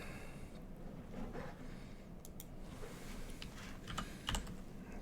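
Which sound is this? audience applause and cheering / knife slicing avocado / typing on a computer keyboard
typing on a computer keyboard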